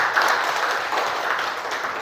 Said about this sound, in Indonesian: Tepuk tangannya buat kelompok 3 dulu